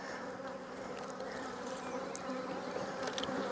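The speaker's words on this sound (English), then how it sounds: "I see all the bees clustered right here in the middle" Honeybees drone in an opened hive, their dense, steady buzz close and continuous, with a few louder passes from single bees.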